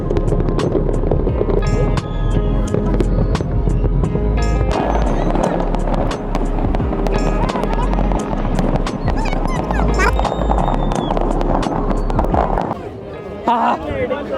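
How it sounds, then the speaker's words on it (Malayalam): New Year fireworks in Abu Dhabi boom and crackle continuously, a dense barrage of loud bangs and sharp pops close by, with a crowd's voices mixed underneath. "അങ്ങനെ നമ്മൾ പ്രതീക്ഷിച്ച ആ ഒരു ന്യൂ ഇയർ ഫയർ വർക്ക് ഇതായെത്തുകയാണ്"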